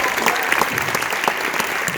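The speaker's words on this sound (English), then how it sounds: "My team, if you guys can give them a round of applause" A crowd applauds a congressional staff team at a community mental health event, dense, even clapping that stays loud throughout, with faint voices underneath.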